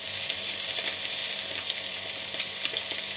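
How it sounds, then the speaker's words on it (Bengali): Pieces of bhola fish fry in hot oil in a karahi, a loud, dense and steady sizzle close to the listener, with small crackles scattered through it and no voices. "তেলটা গরম হয়ে গেছে, এবার আমি ওতে একে একে মাছগুলো দিয়ে দেব।"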